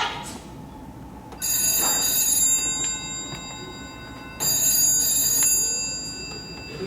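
An old telephone bell rings in two long bursts separated by a pause, loud and close, over a steady background hiss.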